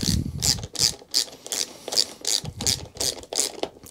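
An 8mm nut being tightened with a ratchet on a Hayter 48 lawn mower, a close, steady run of about ten sharp clicking ratchet strokes with no talking.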